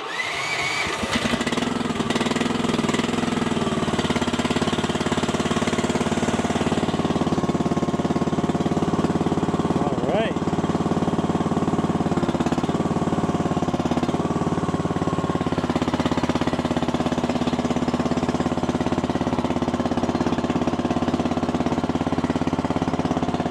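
A Chinese mini skid steer engine starts and then runs at a continuous, rough, fairly loud pitch for a long stretch, with no talking over it.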